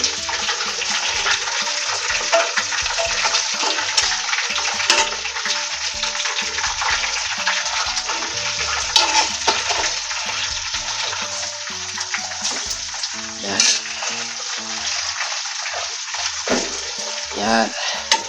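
Crispy pata, a pork leg, deep frying in oil and being turned, a loud close bubbling sizzle with stirring and clatter that rises and falls throughout.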